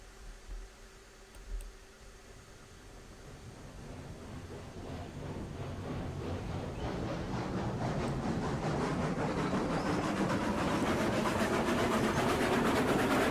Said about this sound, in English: Heisler's a great locomotive.